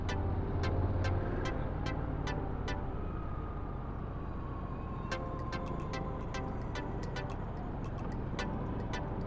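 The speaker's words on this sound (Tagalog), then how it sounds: "Traffic." Road traffic on a ride through Pangasinan toward La Union hums as a steady, low engine drone, with faint passing-vehicle swells and light ticking sounds at a modest distance.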